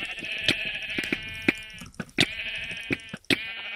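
Sheep in the Minecraft video game bleat again and again in short nasal cries at irregular intervals, several overlapping, fairly close and clear, with no talk over them.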